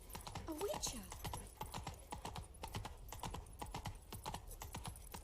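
Quick, rhythmic hoof clip-clops from Roach the horse galloping and sprinting upstairs in The Witcher 3, close and busy, with a brief whinny near the start and a voice talking underneath.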